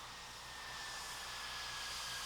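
An F-22 fighter jet rolls slowly forward half a turn during a roll check before taxi, its engines giving a steady, broadband roar with a faint high whine running throughout.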